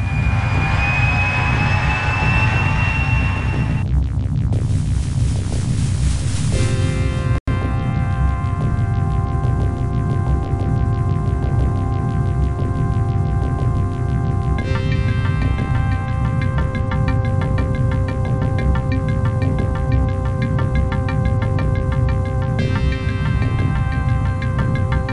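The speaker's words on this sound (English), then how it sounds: "Engine on." An EF2000 jet engine in a flight simulator winds up with a rising whine that settles into a steady turbine roar, with faint ticking and a single sharp click partway through.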